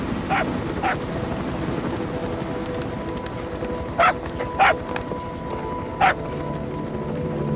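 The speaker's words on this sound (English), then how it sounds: "Here's the dog you brought back." Dog barking inside the video game Metal Gear Solid V: a few short, sharp barks spaced irregularly over a steady game ambience with hoof-like clopping, moderately near.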